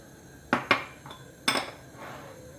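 A small spoon clinking against a bowl while sugar is added, three sharp metallic taps, the first two close together and the third a moment later, near and fairly quiet with no talk.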